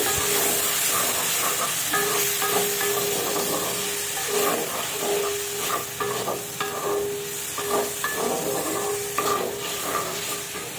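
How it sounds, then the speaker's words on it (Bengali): Chopped onion frying in hot oil in a pan, a loud continuous sizzle and hiss close up, with repeated scraping stirs of a utensil sounding through it and no talking. "এখানে আমি তুলে দিচ্ছি প্রথমেই পেঁয়াজ কুচিটা। তো এবার একটু ভালোভাবে নাড়াই।"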